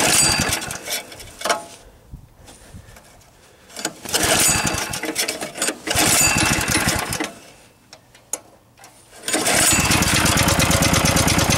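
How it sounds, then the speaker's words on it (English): A Yerf Dog go-kart's small engine runs nearby in snow, loud rattling putter that revs in bursts and drops to a lumpy idle between them, with no one talking. "Yep, the engine got cold on me."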